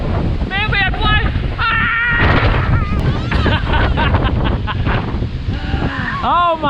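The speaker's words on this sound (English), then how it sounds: "Here comes a gust." Strong gusts of wind drive blowing dust across open ground, roaring and buffeting against the microphone beneath excited, shouting voices that carry on throughout.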